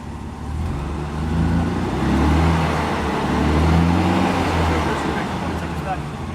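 Motorcycle engine running, a loud low rumbling idle with rising and falling swells, while people talk over it.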